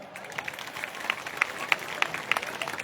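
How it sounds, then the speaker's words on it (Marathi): An audience at a Buddhist Dhamma conference breaks into applause, scattered distinct claps building in a brisk irregular rhythm, moderately faint and heard from across the hall, with a few murmuring voices underneath. "त्यामुळे जोरदार टाळ्या"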